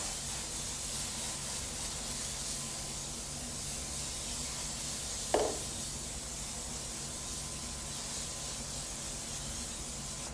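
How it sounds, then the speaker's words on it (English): A steady hiss of cooking spray greasing a baking tray runs continuously, close and even, with one brief tap partway through. "I'm going to grease down my tray before I forget, because sometimes I forget this. So I'm going to spray this down."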